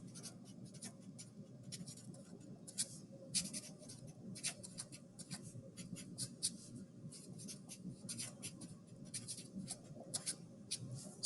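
Chalk or marker writing on a board during an honors biology lesson: continuous scratchy strokes with short bursts and pauses, close and fairly loud, with no talking over it.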